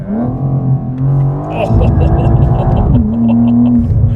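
A 2023 BMW M4 CSL engine with a titanium muffler gives a loud, buzzy drone from inside the cabin, rising and falling in pitch as the car revs, under people's talk.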